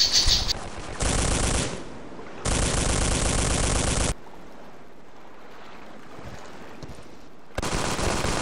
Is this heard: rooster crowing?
no